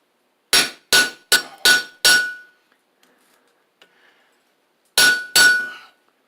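A hammer strikes a chisel cutting a hot metal rosette: five quick, sharp ringing metallic blows, a quiet pause, then two more strikes, each clang close and loud with a short decaying ring.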